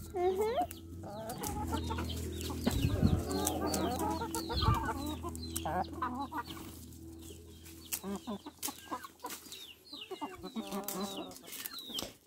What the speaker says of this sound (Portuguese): Você já dá conta de dar milho pras galinhas da vovó